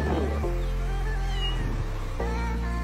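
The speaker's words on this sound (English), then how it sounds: "He found these kittens and kept all 12 of them." A crowd of found kittens meowing loudly and close together, overlapping high cries in a continuous chorus, with a brief gap before another burst of meows.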